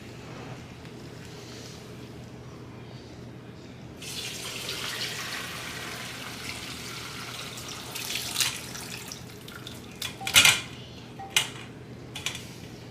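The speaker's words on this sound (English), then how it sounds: "keep straining this through to get it to a more pure bone broth consistency" Homemade bone broth pours and trickles through a strainer, a soft liquid flow that swells midway. It ends with a few louder clanks and splashes close by.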